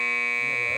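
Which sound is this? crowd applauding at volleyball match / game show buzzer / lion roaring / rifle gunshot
game show buzzer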